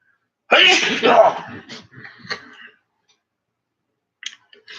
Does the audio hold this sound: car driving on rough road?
no